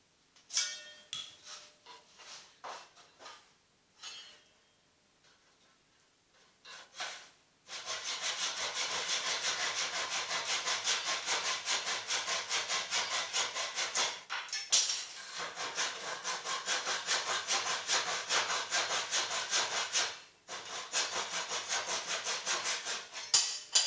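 A handsaw cuts a tapered wooden shaft for a sanshin or shamisen neck on a workbench: a few tentative strokes and knocks, then a long run of steady, rasping saw strokes, close and fairly loud with brief pauses.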